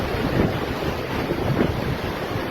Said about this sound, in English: just look at the volume of water crashing over that weir and under the bridge